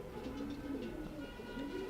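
Breeder pigeons in a loft, including a Silvie-line male, cooing in low repeated throaty calls, close and moderately quiet, alone without talk.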